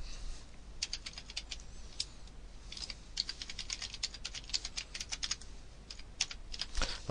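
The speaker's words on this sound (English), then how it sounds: "You can type in your email address" Fingers tapping out an email address on a computer keyboard, light irregular clicking in short bursts close to the mic in an otherwise quiet room.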